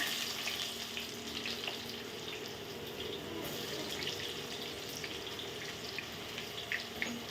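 Onion frying with mustard seeds in a hot pan makes a continuous, even sizzle with scattered small crackles, fairly close, and no one speaks.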